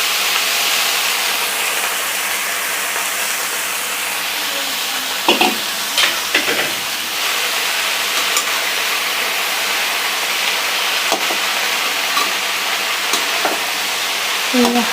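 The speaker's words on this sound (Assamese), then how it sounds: "এতিয়া মই ইয়াত দিম কচুখিনি। এয়া কচুখিনি মই দি ল'ম ইয়াতে।" Taro pieces sizzle and fry in hot oil in a pan, a steady close hiss with a few scraping stirs of a spatula partway through.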